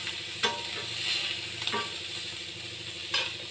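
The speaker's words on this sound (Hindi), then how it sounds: "इसको बस थोड़ा थोड़ा तेल डाल के लोहे के तवे में इसको बस फ्राई कर दूंगी" Fish coated in chilli powder, garam masala, salt and turmeric sizzles steadily in a little oil on an iron tawa, with three sharp clicks or scrapes breaking through the continuous hiss.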